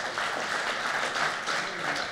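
Applause from a crowd, a dense, steady wash of clapping for a couple of seconds.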